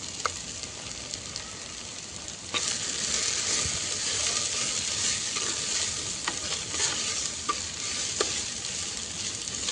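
Crushed uncooked green pigeon peas hit a pan for a sweet-sour kadhi, bringing steady frying sizzle and scraping stirs that grow louder partway through, with scattered clicks and no talking.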